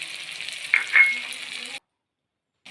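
Onion and capsicum sautéing in a pan with salt, chilli powder and turmeric for chili chicken, a close hissing sizzle with a couple of brief sharper bursts, cutting off abruptly into silence.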